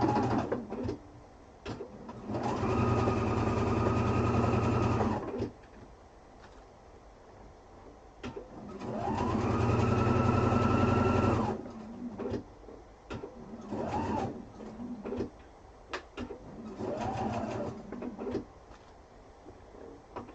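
A sewing machine fitted with a quarter-inch foot stitches a quilted duffel bag pocket in two long, loud, steady runs with quieter handling and shorter bursts between them.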